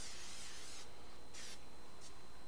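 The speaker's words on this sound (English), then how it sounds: "high heat spray oil" High-heat cooking oil is sprayed in three short hissing bursts onto a whole picanha (top sirloin cap) roast cooked sous vide, each burst close and crisp over a quiet background hum.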